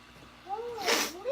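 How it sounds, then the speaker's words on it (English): A single sharp sneeze bursts out after a brief wavering vocal buildup, close and fairly loud. "I'm gonna sneeze"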